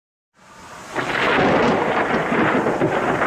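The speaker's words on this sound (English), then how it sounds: "Thunder booms" Deep thunder booms and rolls on for nearly three seconds, loud and continuous, with a rain-like hiss folded into the rumble.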